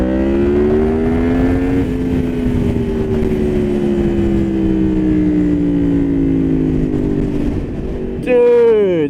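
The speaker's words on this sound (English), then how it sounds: "there's something about that cross-plane exhaust note that just is absolutely incredible" A 2018 Yamaha MT-10 with a cross-plane engine pulls hard on the road, its exhaust note rising and falling in long, loud sweeps before a sharp rev rings out near the end.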